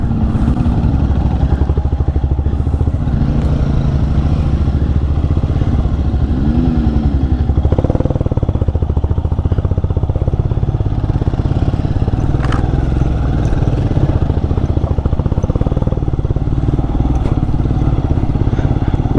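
Royal Enfield Himalayan motorcycle engine running steadily while ridden through city traffic, a loud continuous thumping drone with wind rumble, the engine warning light lit.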